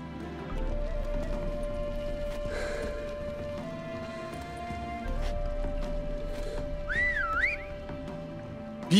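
A man whistles in The Witcher 3, a short rising-and-falling tune near the end, over hoofbeats, a steady hum and game ambience.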